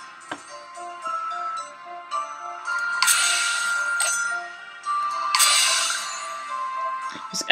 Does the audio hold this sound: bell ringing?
yes